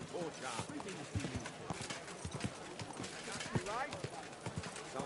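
Horse hooves clip-clop steadily in the video game Kingdom Come Deliverance 2, a rhythmic trot heard under a busy game soundscape with character dialogue and a brief whinny.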